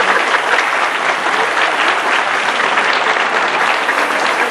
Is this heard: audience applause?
yes